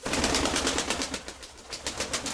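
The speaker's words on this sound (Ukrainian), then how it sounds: "Це голуб номер 76" A pigeon in a loft gives a quick run of rhythmic, fluttering pulses, close and fairly quiet, with no one talking.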